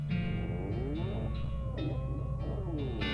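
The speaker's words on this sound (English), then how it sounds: "That sounds like wolves." Wolves howling behind a door in the West of Loathing video game: layered, wavering howls that rise and fall over a low rumbling bed, sustained and fairly loud.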